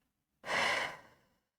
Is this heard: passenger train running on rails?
no